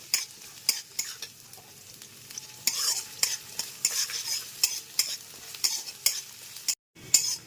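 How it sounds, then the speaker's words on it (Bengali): Chopped onions frying in a pan for an eggplant chop make a soft, continuous sizzle with regular scraping stir strokes of a utensil against the pan. "এই পাশে সব কিছু ভাজা হচ্ছে"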